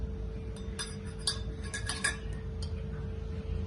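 Spoon stirring and clinking against a metal pot or bowl while working warm milk and ghee into flour for adadiya, a Gujarati winter sweet. Scattered light clinks and scrapes over a steady low hum, close but soft.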